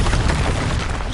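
Casting of the Expelliarmus spell in Hogwarts Legacy, a dense, roaring magical burst that stays loud and full throughout its short span with a low rumble underneath, and no voices.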